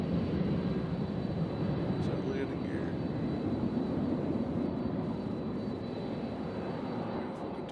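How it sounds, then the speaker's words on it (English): A Boeing 757 rolls at Louisville's UPS World Port, a loud, continuous broadband engine roar that holds steady throughout, with a voice talking faintly underneath. "the 757 is rolling"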